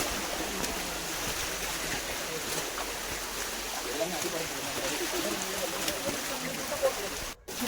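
Continuous broadband rushing of rainwater flowing down stone steps at Lohagad Fort, steady and enveloping, with no clear voices.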